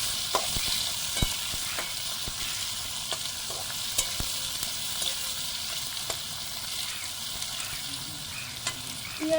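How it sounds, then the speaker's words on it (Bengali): Onions frying in oil for a fish-head kachu greens dish, a soft continuous sizzle with scattered small pops and clicks of stirring throughout, fairly quiet and without voices. "পেঁয়াজটা হালকা লাল লাল করে ভেজে নেব।"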